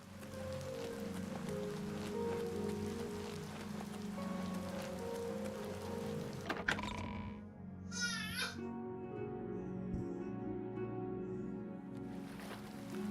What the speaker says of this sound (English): Ooh, rainy.